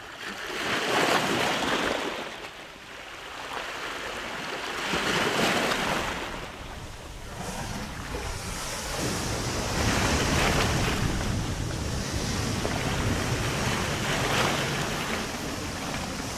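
High ocean waves roll and crash at Banyu Tibo beach in Pacitan, the surf surging in broad repeated swells with heavy wind buffeting the microphone.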